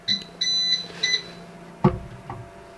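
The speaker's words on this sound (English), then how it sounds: "Now when this is ready, the system will give you 2 beeps." A few short electronic beeps from an Elegoo Jupiter 3D printer during bed leveling, followed by a dull mechanical thump and a softer clunk, quiet and nearby.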